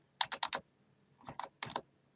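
Arrow keys on a computer keyboard are tapped in two quick bursts of three or four crisp clicks each, close and fairly quiet, with no talking.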